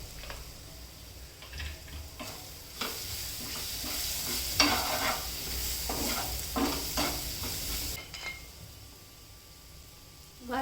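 Safflower greens being stir-fried with red chili powder for a dry bhaji, giving a constant close sizzle under frequent clinking, scraping stirs of a spoon against the pan, with no talk.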